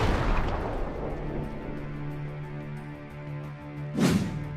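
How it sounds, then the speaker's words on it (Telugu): A gas cylinder blast as a sound effect, a deep booming explosion at the start that rumbles and fades, then a second sharp bang near the end, loud and with no talk. "ఒక పెద్ద పేలుడు సౌండ్ రాగానే"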